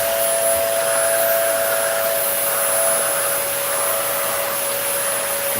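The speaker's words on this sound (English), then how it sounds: "Vacuum real quick." A vacuum cleaner runs close by, cleaning out the engine bay of a Ford Crown Victoria. Its high, steady whine and airy hiss continue evenly throughout with no speech.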